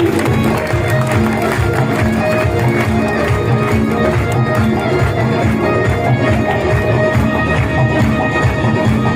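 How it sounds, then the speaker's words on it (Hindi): Loud, continuous applause and crowd noise fill a business event celebration held in a marriage hall, with dense clapping from many hands and voices mixed in. "मेरी ग्रेट अप्लाइज मिस्टर दुनेश सर के लिए जोरदार ताली"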